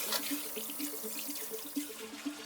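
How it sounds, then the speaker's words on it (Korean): Pieces of LA galbi rinsed under a running tap, a steady faint stream of water with soft splashing and a regular gentle pulsing as the meat is turned in the flow; no voices. "흐르는 물에 깨끗이 씻어"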